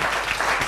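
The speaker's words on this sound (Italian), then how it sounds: "Un applauso Rossana." A short burst of crowd applause at an indoor sports gathering, a dense steady patter of clapping from many hands for under a second.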